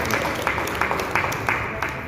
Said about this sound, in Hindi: सभी लोग एक बार फिर जोरदार तालियां करें